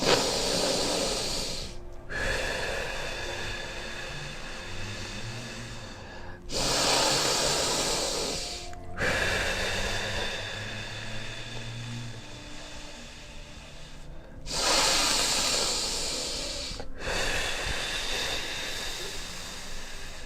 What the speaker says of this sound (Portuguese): Sempre coloca a intenção que você está respirando prana puro nesse processo.